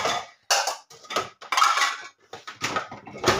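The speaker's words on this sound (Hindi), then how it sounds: "अब मेरे बर्तन बहुत सारे गंदे हो गए हैं, तो ये मैं बर्तन धो लूंगी।" Dirty pots and dishes being washed at home, a run of clanking and scraping bursts of metal and crockery with short gaps between them, close and fairly loud.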